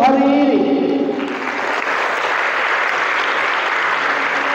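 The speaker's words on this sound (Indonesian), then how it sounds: "kita berikan tepuk tangan untuk segmen IFAN 2024 hari ini" Loud, dense audience applause at a motivational event at a school in Tangerang, a sung or spoken tone fading out at the start before a steady, close wash of clapping carries on to the end.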